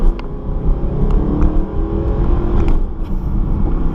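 A Mercedes SLS AMG's naturally aspirated 6.3-litre V8 drones loud and close from inside the car, a steady dense rumble with slight swells, as if holding the throttle while cruising.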